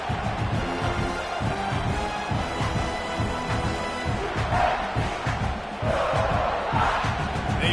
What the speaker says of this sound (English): and this crowd trying to help keep them there